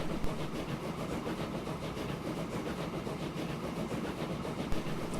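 A train runs steadily in the Transport Fever railway game, a continuous rolling rumble with faint clattering that stays at an even, moderate level throughout, with no voices.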